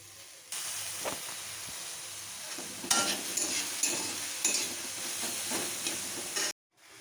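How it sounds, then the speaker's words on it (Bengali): Fenugreek greens and eggplant sizzle in a pan, the steady frying hiss broken by bursts of louder stirring scrapes before it cuts off abruptly near the end. "বেগুনটা হয়ে গেছে মোটামুটি এবার শাকটা দিয়ে দিচ্ছি"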